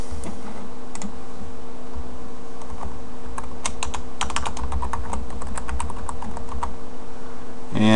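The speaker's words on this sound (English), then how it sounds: "we're going to go ahead and type a password in" Password being typed on a computer keyboard during an Ubuntu 10.10 server installation, with close, steady bursts of key clicks over a constant hum and no voices.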